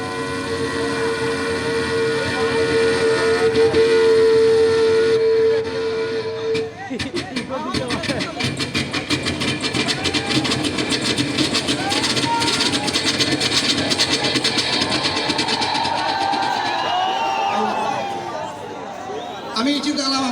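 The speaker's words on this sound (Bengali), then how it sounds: "কয়লার ইঞ্জিন ট্রেন।" A coal-fired steam engine train in Gaibandha sounds a steady whistle tone at first, then gives way to a loud, sustained rumbling roar of the moving train with rattling, and voices can be heard amid the noise.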